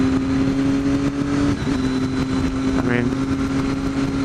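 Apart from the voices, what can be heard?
motorcycle riding at 55 miles an hour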